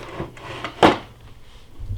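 A makeup drawer slides shut with a single sharp thump midway, preceded by faint light handling noises in a quiet room.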